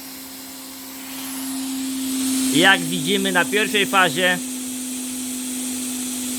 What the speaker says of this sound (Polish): Odkurzacz sobie pracuje.